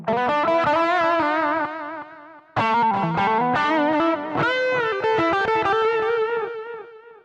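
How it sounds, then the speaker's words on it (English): Guitar played through a Zoom GFX 707 multi-effects unit with a delay effect, distorted sustained notes and chords trailing off in repeating echoes, loud and continuous with a brief break midway. "That delay sounds all right."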